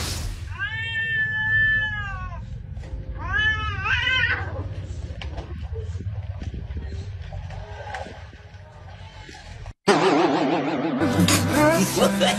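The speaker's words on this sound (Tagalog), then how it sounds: "Madalas kapag maiingay ang dalawang pusa, for sure, nangangamoy away na yan." Two cats yowl loudly with long, wavering, rising and falling cries. Harsh screeching bursts out near the end as the fight breaks out, with background noise throughout.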